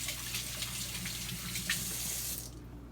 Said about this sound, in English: Hang on, I gotta rinse my hand.